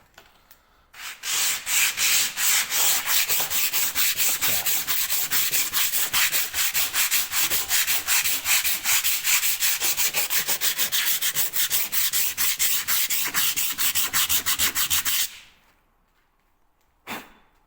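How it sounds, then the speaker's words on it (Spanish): Rapid, rhythmic back-and-forth sanding of car body filler with 60-grit sandpaper, loud and close, runs steadily for about fourteen seconds, then stops, followed by a brief faint scrape. "con la lija 60, la verdad es que se va como un paseo esto aquí"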